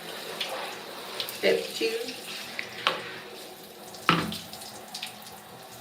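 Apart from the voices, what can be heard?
water running while rinsing conditioner out of hair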